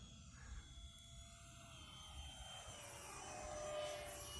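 An RC J35 model jet with an electric ducted fan flies outdoors, its steady whining fan tone shifting in pitch and growing slightly louder as it passes, heard from a moderate distance.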